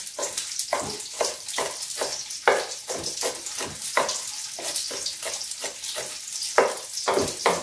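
Shallots frying in a pan give a bright, hissing sizzle that comes in regular bursts, as if stirred or tossed, close and fairly clear, with no talking over it.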